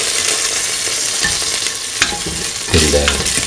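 Fennel seeds frying in a pan, a steady bright sizzle with occasional stirring scrapes and a louder burst of crackling near the end.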